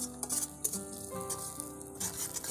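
Finely chopped onion frying in a pan with bay leaf, dried chillies and five-spice, a steady close sizzle with occasional stirring scrapes and clinks, no talk.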